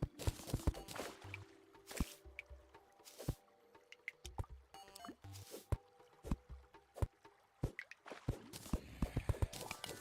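Short liquid drips and splashy watery blips from the video game Terraria, scattered irregularly and fairly close against quiet gaps, with some game effects in between.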